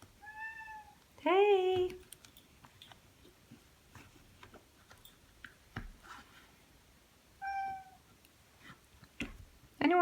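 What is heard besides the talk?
pet cat meowing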